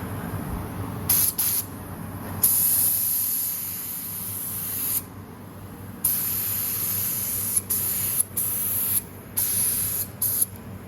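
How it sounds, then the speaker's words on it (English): Spray gun laying black guide coat onto a repaired RC car shell, steady hissing bursts up close, starting and stopping several times with short pauses between. "And then I'm going to spray it with my black gun."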